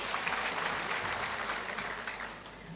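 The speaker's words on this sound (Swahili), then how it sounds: "Pigia Senator makofi." Steady, dense applause from a crowd honouring a senator at a World AIDS Day event in Meru, continuous and fairly loud throughout before easing slightly at the end, with no speech over it.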